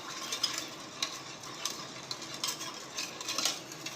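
A spoon stirs salt into a lemon candy mixture to dissolve it, producing soft, rapid, steady scraping and light clinks against the bowl, close and quiet, with no talking.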